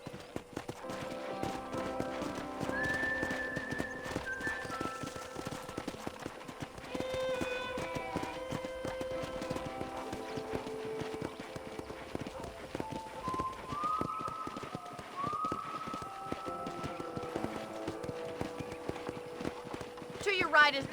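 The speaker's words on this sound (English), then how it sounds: "let's see if you can still ride a horse" Hooves clip-clop steadily as a horse is ridden in the Red Dead Redemption video game, the rhythmic footfalls running under a continuous bed of music and other game sounds for the whole stretch.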